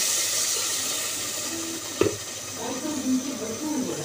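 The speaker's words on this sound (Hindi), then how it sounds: "इसमें अब मैं डालूँगी पानी" Water poured into a pan of black chickpea curry gravy, a soft liquid splash with a brief sharp onset, then gentle bubbling and simmering sounds close by.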